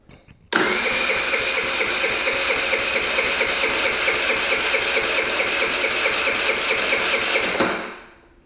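A scooter engine cranks at wide open throttle on a compression test, making a sudden, loud, buzzing whir that holds steady for about seven seconds and then winds down, heard close with no talk.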